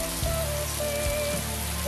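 Steady rain pours down in a drama scene, a dense, even hiss that runs unbroken for the whole two seconds, with faint low tones sustained beneath it.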